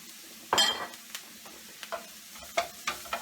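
Chopped fresh garlic sizzling in a paella pan, with a burst of frying as it hits and then scattered stirring scrapes and soft sizzles, fairly quiet.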